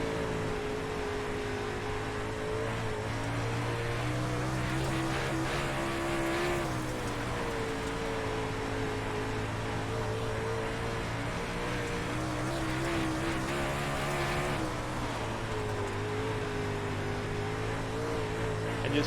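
Super Dirt Late Model race car engine in the iRacing sim, a steady loud droning roar with shifting harmonic pitch as the throttle rises and eases through corners, continuous throughout without talk.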